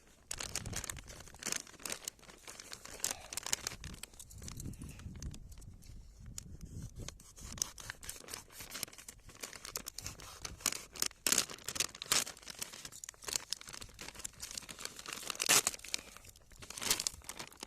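A Ukrainian military ration's plastic packet is torn open and handled, giving repeated sharp crinkles, rips and rustles in irregular bursts close to the listener.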